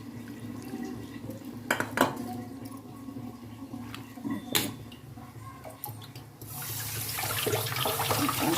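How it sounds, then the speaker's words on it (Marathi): Sago is washed in cold water in a vessel, with sloshing and splashing, a few sharp clinks of the container, and a steady rush of running tap water toward the end. "थंड पाण्याने आपण धुणार आहोत"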